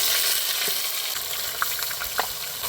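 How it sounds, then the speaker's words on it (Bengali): Onion paste sizzling in hot oil in a wok after whole cardamom, cinnamon, cloves and cumin, a steady loud crackling hiss with a few brief stirring scrapes, no talk. "তেলটা গরম হয়ে গেছে, পেস্ট করে রাখা পেঁয়াজ বাটাটা দিয়ে দিব"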